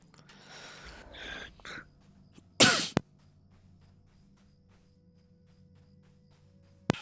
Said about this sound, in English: I was holding in a sneeze and it turned into a cough